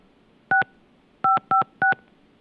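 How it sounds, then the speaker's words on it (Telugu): Touch-tone telephone dialing while a call is placed: four loud, clean two-tone beeps, one and then a quick run of three, against a quiet background. "ఫోన్ కాల్ కోసం ట్రై చేస్తూ ఉన్నాము"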